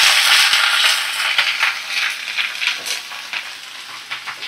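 Chopped onion, malabar spinach, eggplant and potato fry for a Bengali chorchori, giving a steady, fairly loud sizzle with crackly bursts and scraping stirs throughout, with no voices.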